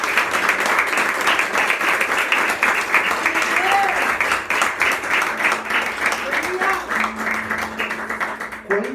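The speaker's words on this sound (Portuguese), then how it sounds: "Você pode aplaudir o Senhor?" A church congregation applauds during a worship service, a loud, steady wash of many hands clapping that carries through the whole stretch, with a voice briefly audible over it.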